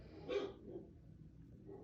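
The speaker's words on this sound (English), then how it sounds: "The dog is barking in the other room." A dog barks faintly from another room, a couple of muffled, distant barks over quiet background.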